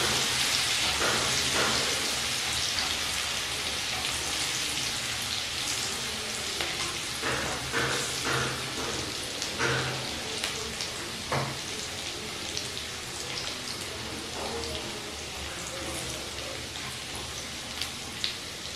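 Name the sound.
garlic frying in oil on low flame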